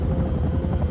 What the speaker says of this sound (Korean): 헬기가 떠나지 못하게 케이트가 뛰어갔을 땐 이미 그들은 상공에 있었습니다